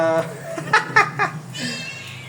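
A few short, bright, rising meows near the microphone, with a harmonic vocal tone at the start and a softer trailing call.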